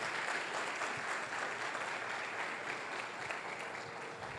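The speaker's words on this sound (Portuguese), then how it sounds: "Dê uma salva de palmas para Jesus." A church congregation claps together during a bishop's sermon, a continuous even roar of many hands heard at a fairly quiet, distant level without any speaking.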